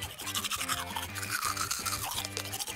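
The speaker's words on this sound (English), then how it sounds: "Now I can brush my teeth" A toy dollhouse plays a toothbrush brushing sound effect with a bright, rhythmic, tonal buzz that repeats in short pulses for a few seconds, with no speech.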